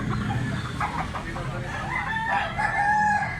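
A young gamecock stag, a white hackle bird at Tabunok, Cebu, crows loudly and close in a drawn-out call over a background of other roosters and farmyard noise.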